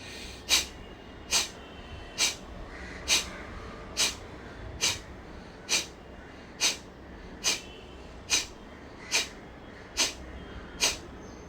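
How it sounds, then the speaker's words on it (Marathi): Sharp, forceful nasal exhalations through both nostrils repeat at a steady rhythm, about one every second, each a short breathy puff, with no talking, during a breathing exercise for a common cold. "दोन्ही नाकपुड्यांनी आपण आता करत आहोत. ॲक्टिवली उच्छ्वास सोडत आहोत."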